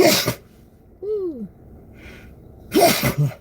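Two loud, close sneezes, one at the start and one at the end, separated by a short vocal exclamation and quiet, with a faint voice in between.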